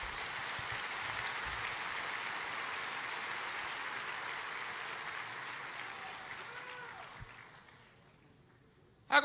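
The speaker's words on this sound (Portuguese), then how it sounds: "Se é para aplaudir, aplauda com vontade" Sustained applause from a church congregation fills the space, a dense clatter of many hands that gradually fades out, with a brief sharp sound at the very end.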